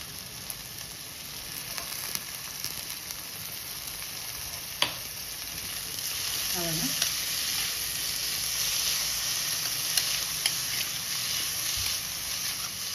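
Chili pieces and tomato frying for masala rice, a soft continuous sizzle and hiss with a few stirring clinks and taps, no talking.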